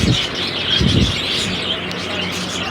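Birds at a pet bird market stocked with parrots and pigeons call and chirp, with low cooing bursts near the start and brighter tweets over a busy, continuous background.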